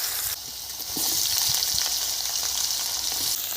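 Potatoes hit hot oil with a tempering of dried red chilli and cumin, and the frying jumps to a louder, steady sizzle about a second in, with faint stirring clicks under the hiss.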